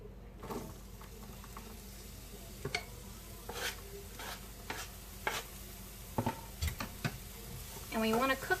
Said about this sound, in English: it is time to add the chopped onion and garlic